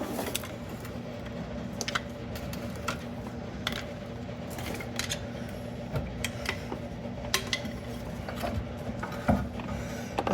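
Metallic clicks and ratcheting taps under a 1983-1988 Toyota Tercel while its damaged-boot CV shaft is worked free, a steady irregular clatter of small mechanical knocks close by with a low background hum and no speech.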